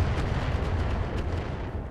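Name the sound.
mech weapon fire hits in modded BattleTech video game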